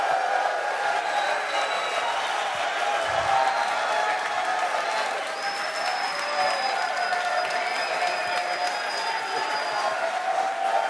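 A large crowd at a Tesla event applauding and cheering continuously, loud and dense throughout with scattered whoops, a single voice speaking faintly underneath.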